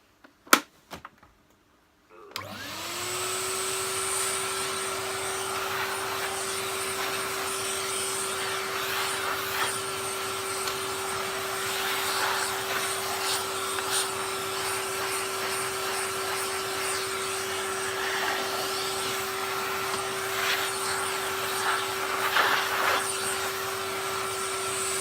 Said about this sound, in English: I've just vacuumed up the worst of it.